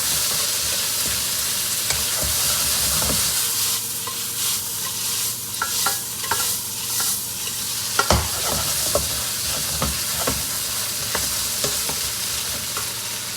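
Chicken hearts stir-fry in oil over high heat, a steady loud sizzle with repeated scraping and tossing clatters of the spatula against the pan, no voices.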